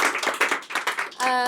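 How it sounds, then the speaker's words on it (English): An audience claps at a live magic show, a short patter of scattered hand claps that swells into fuller applause at the end. "Everyone give her a big round of applause."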